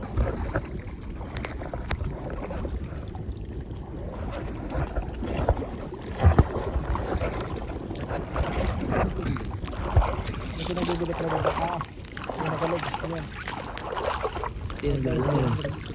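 A small boat moves steadily across the sea off Polillo Island, with engine or paddle wash and splashing, wind buffeting the microphone, and people talking over it.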